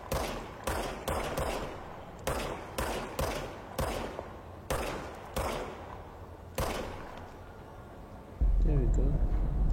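Service weapon fire in a video game: a string of about ten loud, punchy gunshots in quick bursts, close and dominant, ending in a low rumbling hum.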